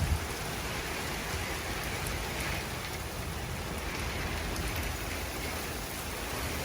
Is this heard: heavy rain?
yes